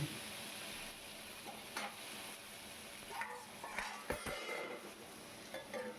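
Potatoes and onions fry in a pan while being stirred, a quiet continuous sizzle broken by several soft scraping and clinking strokes of a utensil against the pan.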